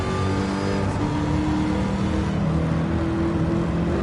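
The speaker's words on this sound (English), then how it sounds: "The supercharger sounds insane in this car." A supercharged car engine in a racing video game holds a steady, loud drone throughout, its tones shifting slightly as the revs change, with no talking over it.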